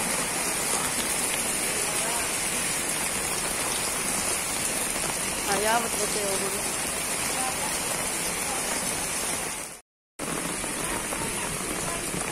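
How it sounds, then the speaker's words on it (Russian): Heavy rain pours down in Hadera, Israel, during the first downpour of the season that floods the street: a dense, steady hiss of drops hitting the ground, close and loud, with a voice speaking briefly and a short dropout near the end. "Нормально начались дожди."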